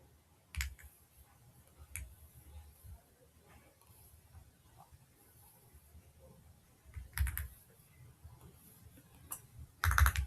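Scattered keystrokes on a computer keyboard while code is typed, arriving as a few isolated clicks and short bursts over a quiet background, with a louder cluster of taps at the very end.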